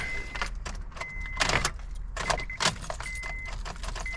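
Keys jangle and rattle in a Honda Odyssey ignition as they are turned repeatedly with a failing starter, with a chime beeping at intervals in the background.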